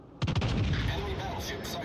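Warship main-battery artillery in World of Warships Legends, a rapid salvo of heavy booming shots followed by a long rolling rumble, with a voice faintly under the blasts.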